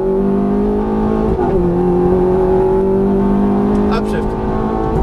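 Ferrari F430 on the Fontana race track pulling hard at full throttle, its engine note loud, close and steady as it climbs, with a brief dip and a change in tone partway through.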